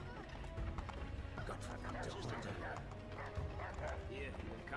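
A dog barks and yips in the video game Assassin's Creed III amid scuffling game sounds, with someone talking over it throughout.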